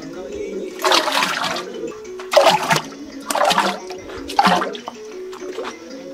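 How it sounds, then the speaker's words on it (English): Pito, a local Ghanaian beer, is poured into a big pot for its second boiling, in several separate splashing pours, with voices talking in between. "So that's what she's pouring into the big pot, pot for the second boiling."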